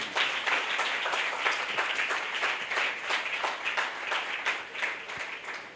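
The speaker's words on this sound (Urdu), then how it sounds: "آج زوردار تالیاں بجائیں یسوع کے لیے۔" A church audience claps and applauds for Jesus in a steady, continuous crowd ovation of many hands, moderately distant and even in level throughout.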